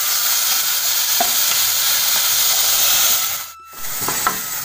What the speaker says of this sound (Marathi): हे बघा व्यवस्थित अशी फोडणी झाली आता करून